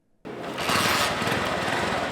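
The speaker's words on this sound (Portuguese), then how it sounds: "A partida na moto se repete centenas de vezes durante o dia." A motorcycle engine catches and starts after a moment of silence, then settles into a steady, close, buzzing idle with a rough mechanical rattle.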